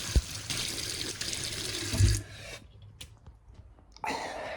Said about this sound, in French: Moi je me mets un peu d'eau dans le visage.